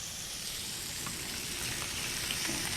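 Veal chop sizzling in a hot skillet, a steady, dense crackle that holds at an even level throughout with no voices.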